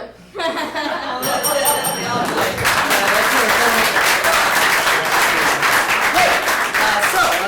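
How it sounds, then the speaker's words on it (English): Loud, sustained applause from a live improv comedy audience in St. Pete, many hands clapping densely with some cheering and laughter after a bell-like ring at the start. "So based on that applause, which I heard"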